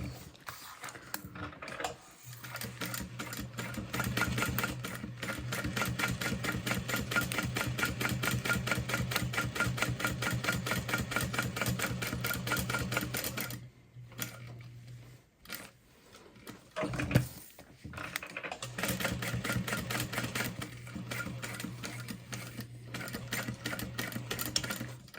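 A sewing machine top-stitches the strap of a cat-themed bag at a long stitch length, running slowly in a steady mechanical hum over long stretches, with two brief pauses between runs.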